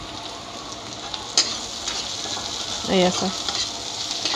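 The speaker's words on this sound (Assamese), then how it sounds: "এতিয়া মই এই থেতেলিয়াই ৰখা এই নহৰুবিলাক ঢালি দি আছোঁ।" Crushed garlic goes into hot oil and sizzles steadily with a brief burst of louder frying, a short spoken phrase and a clink of utensils heard along the way.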